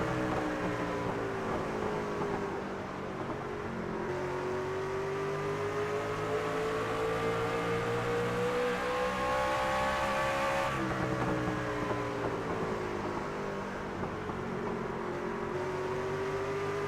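Race cars circle the track at Lucas Oil in a continuous loud engine drone, pitch rising and falling as cars pass and shift, with no voices over it.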